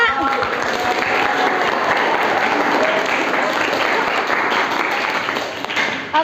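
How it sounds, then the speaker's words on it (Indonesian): A class of students applauds with loud, dense clapping that continues steadily and then tapers off near the end. "Kita beri aplaus dulu anak-anak."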